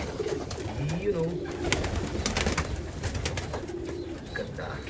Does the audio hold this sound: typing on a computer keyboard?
no